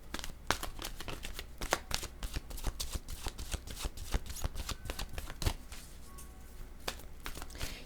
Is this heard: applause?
no